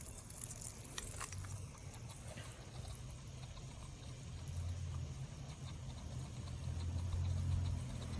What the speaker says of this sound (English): You can hear our wagtail starting to pump a little bit.